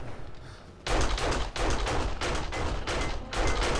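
A demolition zombie explodes in the survival game 7 Days to Die, setting off a run of loud, booming blasts and thuds that repeat in bursts over a few seconds with no talk.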